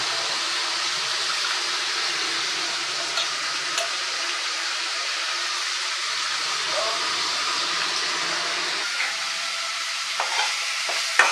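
Soaked broken rice sizzles steadily as it sautés in a hot pan, a continuous hiss close by with a few faint clicks of stirring.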